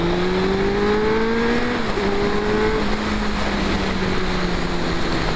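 Suzuki Bandit 600 four-cylinder motorcycle being ridden on the road, a steady loud engine drone with clear tonal harmonics that dip slightly around a gear change, accompanied by constant wind rush, no talking.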